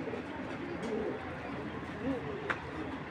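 A racer pigeon coos softly a few times, with low, rounded notes that are fairly quiet against a constant background hiss, plus a brief sharp click.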